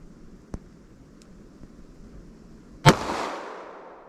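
A single loud gunshot from a .38 Special +P 125 grain controlled-fracturing round fired through a 3-inch barrel cracks sharply near the end, with a decaying rumble afterward and a few faint clicks before it.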